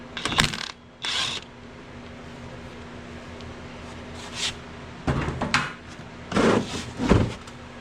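A ratchet loosens 14mm bolts on the front axle of a Kubota BX23S tractor. Several close, short bursts of mechanical clicking are separated by quiet pauses.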